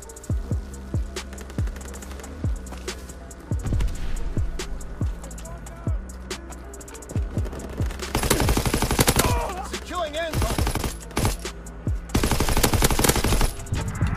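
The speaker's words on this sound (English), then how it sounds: "Fighter pilot inbound, strafing the target." Gunfire during a fighter plane's strafing run in the World War II shooter Call of Duty WW2, with sharp separate shots early and dense rapid machine-gun bursts later, loud and close amid in-game effects and voices.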